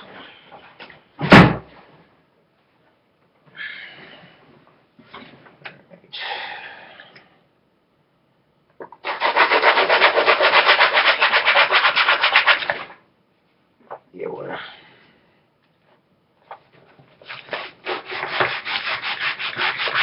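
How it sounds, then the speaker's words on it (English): Sandpaper rubs against a sawed-off Crosman BB gun part in bursts, the longest about four seconds. Scraping strokes come close and loud, broken by short clunks and handling noises. "I'm gonna take a little bit of sandpaper and sand her off a bit"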